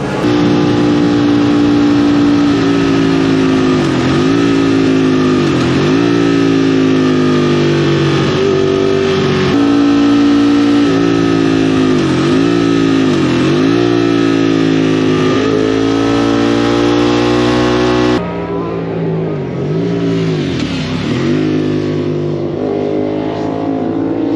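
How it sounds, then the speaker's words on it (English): A Ducati 848 Evo motorcycle roars around the Lakeside Park race track during a track day. The engine is loud and close, rising and falling through repeated revs and gear shifts without a break. "It's such a smooth, easy bike to ride, this 848. It shifts like butter."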